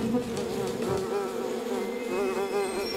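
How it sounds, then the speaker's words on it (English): A dense, droning hum of many bees buzzing close by, continuous and loud with shifting wingbeat tones. "There's a lot of bees here."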